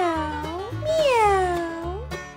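A person imitates a cat's meow during a farm animal story read aloud: a long, rising-and-falling drawn-out mew, clear and close.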